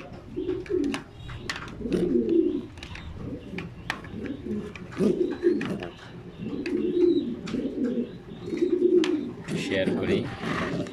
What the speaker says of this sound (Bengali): অনেক সুন্দর একটা ফিমেল কবুতর